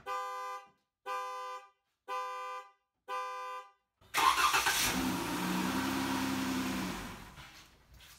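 A Dodge Durango started with a key: four evenly spaced electronic warning chimes ring out, then the starter cranks and the engine catches, settling into a loud, steady idle that eases off near the end.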